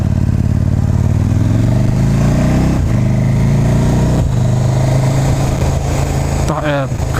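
A KTM Super Duke R motorcycle engine revs hard while riding, pitch climbing and dropping through quick gear shifts, loud and close, with wind buffeting throughout.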